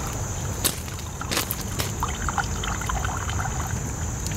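Water filtering through a Sawyer Squeeze into a Cnoc Vecto bag outdoors, a steady close trickle and splash running continuously with a faint high whine in the background and no talk.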